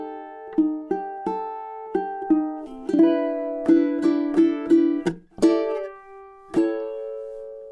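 A ukulele plays a piece, close and solo. Crisp three-finger picked notes give way to fuller strummed chords near the end, with no talking.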